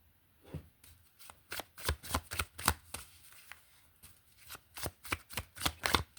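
Tarot cards being shuffled, a series of crisp riffling bursts in quick irregular rhythm, close and fairly quiet with no talking.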